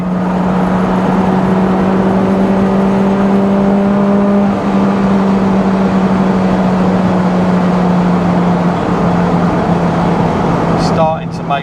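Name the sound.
supercharged Honda S2000 accelerating full throttle in sixth gear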